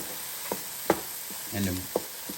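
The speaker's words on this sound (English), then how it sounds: "And stir it." Eggs and zucchini sizzle softly in a pan while a utensil gives a few sharp, separate scrapes and taps as the food is stirred, fairly quiet overall.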